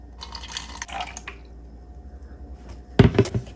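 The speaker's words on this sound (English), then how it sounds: "we're going to add our liquid" Liquid poured into a container set on a digital kitchen scale: a soft trickle of splashing at the start, then quiet, and a louder sloshing pour near the end, with no talk.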